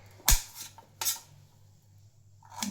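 Knife chopping raw mango into small pieces for pickle, three sharp clicks of the blade striking the board at irregular intervals, close and fairly quiet with no talk.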